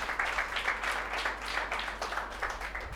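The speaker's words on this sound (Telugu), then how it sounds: "చప్పట్లు కొట్టాలమ్మా సార్." An audience claps together at a gathering, a brisk, continuous patter of many hands heard fairly close with no talk over it.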